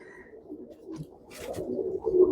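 Domestic pigeons cooing softly near their two chicks in a clay nesting pot, a low murmuring coo repeating close by in a quiet indoor loft, with faint rustling and no talking.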